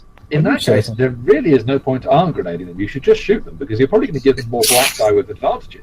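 A sneeze bursts out near the end of a tabletop roleplaying session, a single sharp hissing blast cutting across steady close conversation among players.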